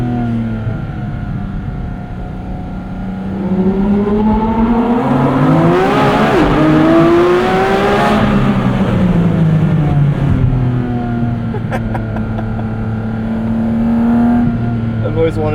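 A 2023 Porsche 718 Cayman GT4 RS engine revs hard while driving, pitch climbing and falling through gears in loud, close sweeps, with a brief shifting gap midway and continued high-revving pulls afterward.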